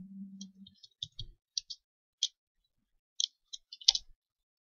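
Computer mouse clicks while editing a Google Form, a string of sharp, isolated clicks spaced irregularly, close and fairly quiet, with no talking.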